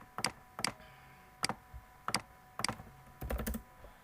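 Typing on a computer keyboard into a Ruby terminal: isolated crisp key clicks at irregular intervals, close and clear, ending in a quick burst of several keystrokes over a quiet background.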